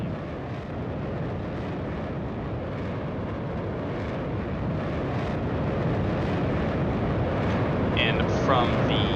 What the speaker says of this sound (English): now rolling, burners and smoke liners fitted, we have the F-16 from the Atlantic Air Force